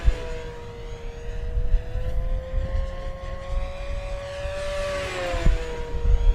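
Durafly P-40N 1100mm RC model airplane flying near full throttle, its steady whining motor drone holding a rising, slightly shifting pitch with a brief dip as it passes, over outdoor wind noise.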